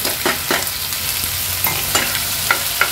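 Soaked rice sautéing in hot ghee in a pan for sweet coconut rice, a steady sizzle broken by repeated scraping stirs of a spoon, close and fairly loud with no talking.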